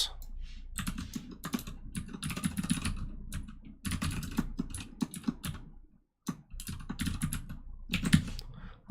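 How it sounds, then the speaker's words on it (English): Fast, steady clatter of keys on a computer keyboard while coding a React chat application, dense runs of close clicks with a brief pause near the end before typing resumes. "as I'm typing now"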